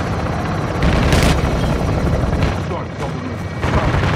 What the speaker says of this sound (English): Hit that vehicle with the heli